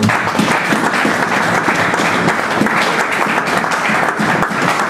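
A church congregation applauds the Lord with sustained, loud, dense clapping from many hands, a steady crackling wash lasting the whole stretch.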